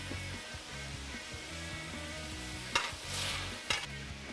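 Browned ground beef sizzles in a pan with chopped onion and garlic, a soft steady frying hiss punctuated by a couple of louder stirring scrapes and clanks, close by, with no speech.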